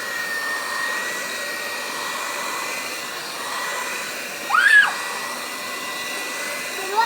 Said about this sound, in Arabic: نبتدي بقى نعملها بالمضرب العجين